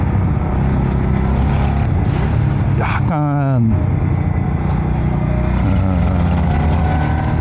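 A Daelim Mirage 650 motorcycle engine idles steadily up close during repair testing, a constant low mechanical drone, while someone talks over it briefly.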